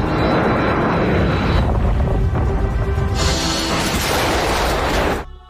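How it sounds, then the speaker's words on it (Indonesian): A passenger airplane takes off from a runway too short to stop on during a disaster film scene set around a volcanic ash cloud, a loud sustained engine roar with rushing noise that swells and then cuts off abruptly. "Alhasil pesawatnya pun lepas landas dan masuk ke dalam awan abu itu."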